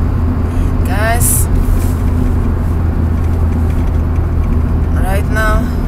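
Car driving along a road, a steady low engine and tire rumble heard from inside, constant and fairly loud, with a voice speaking over it.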